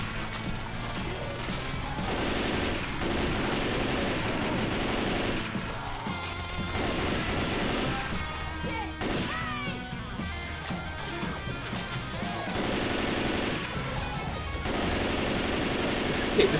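Gunfire aimed at the Tank in Left 4 Dead 2, rapid bursts of automatic shots and crashing impacts over loud continuous game noise, dense and near throughout.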